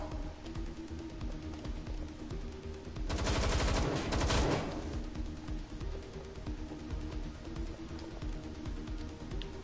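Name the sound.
gunfire in video game Watch Dogs: Legion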